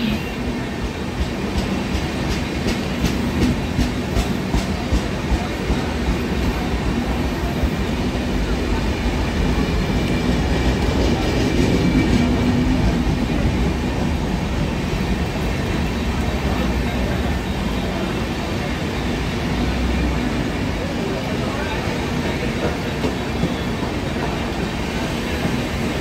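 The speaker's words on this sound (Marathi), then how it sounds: "परेल जाने वाली धीमी लोकल थोड़े ही समय में प्लेटफॉर्म क्रमांक 2 पर आ रही है" A slow local train bound for Parel pulls into a Mumbai Central Line platform, its steady rumble and rattle filling the whole stretch at an even, fairly loud level, with a faint voice beneath.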